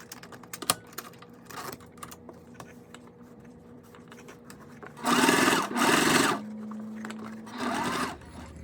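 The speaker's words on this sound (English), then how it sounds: "We're going to go ahead and top stitch this." A sewing machine top stitches a bag in two short bursts of whirring, with a brief third run after a pause, preceded by soft clicks and handling of fabric.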